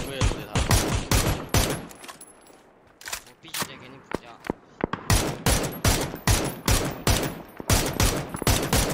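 Video game gunfire rings out in rapid bursts, loud and close sharp automatic shots with a brief lull in the middle before heavy firing resumes.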